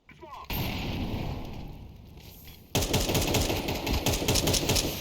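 Gunfire in a first-person shooter game as a player lands a headshot: a dense, continuous rattle of rapid shots that pauses briefly, then resumes louder and harsher, with a voice faintly underneath.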